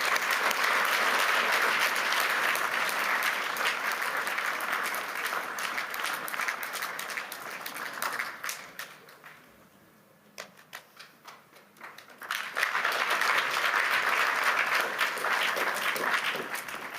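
Sustained applause from an audience at the closing of a meeting, with guests invited on stage. It is loud and dense, thins to scattered claps midway, then swells back to full strength.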